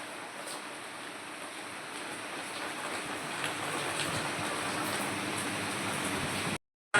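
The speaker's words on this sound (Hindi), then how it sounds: "और ये बारिश आ गई अभी," Rain falling outdoors in a sudden shower: a continuous broadband hiss that holds steady and thickens slightly over several seconds, then cuts out briefly near the end, with no speech heard.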